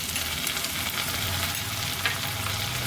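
Ginger and garlic paste fries in a pan for a duck egg curry, giving a steady soft sizzle with faint stirring scrapes throughout.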